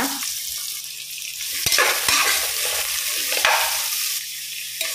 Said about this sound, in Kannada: ಈ ಸ್ವಲ್ಪ ಬಿಸಿ ಆಗುವಾಗ ಒಂದು 3 ಈರುಳ್ಳಿಯನ್ನು ಹಾಕಿ ಫ್ರೈ ಮಾಡುವ